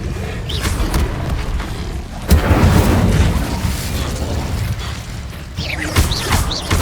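Spell blasts and fiery explosions from combat in Hogwarts Legacy: dense, rumbling booms and crackling bursts layered in quick succession, loud and continuous, with a few sharper impacts standing out.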